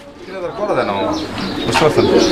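Pigeons coo at a farm in a brief, close, throaty burble, with a voice talking over the birds.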